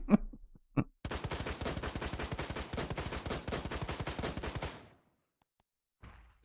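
Rapid pistol fire in the video game Project Demigods: a few isolated shots, then a fast unbroken volley of several seconds, fairly faint overall, ending in silence.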